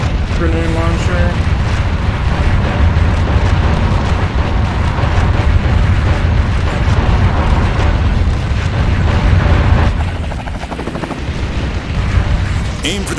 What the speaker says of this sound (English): Let's switch to the other grenade launcher.